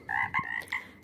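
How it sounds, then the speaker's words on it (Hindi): A frog croaks in quick short bursts, two or three close, clear throaty calls in a brief run. "मेंढक की टर्राहट सुनकर हाथी के कान खड़े हो गए।"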